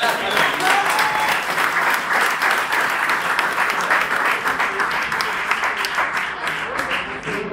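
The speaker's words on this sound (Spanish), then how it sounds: "un aplauso para ellos" An audience at a live folk metal show at El Emergente gives a band a dense, steady ovation of clapping that keeps going the whole way through, with crowd noise underneath.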